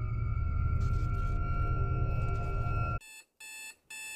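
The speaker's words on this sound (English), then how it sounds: "my alarm was going off." An alarm clock rings with a steady, loud electronic tone, then breaks into three short bursts of beeping before stopping.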